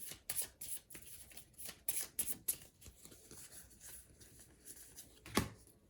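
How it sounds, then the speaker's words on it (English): A deck of game cards is shuffled close by with soft, rapid riffling bursts and light tapping, fairly quiet with no talking. "we're going to shuffle up Mr. Wright's discard pile into his new deck."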